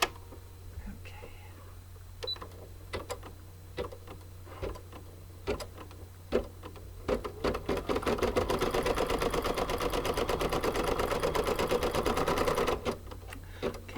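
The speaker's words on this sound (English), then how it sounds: "it'll first stitch the placement, and then it's going to stitch the tack down" Home embroidery machine stitching a placement line for an in-the-hoop bee coaster, a fast steady needle patter that builds to a dense continuous whir after a few scattered clicks, with a low motor hum throughout.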